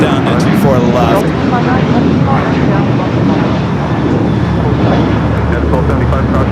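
Jet airliners, including a KLM jet in centenary livery and an Air Tahiti Nui Dreamliner, taxi and take off on the runways at LAX, a steady loud roar of engines filling the scene under continuous radio chatter.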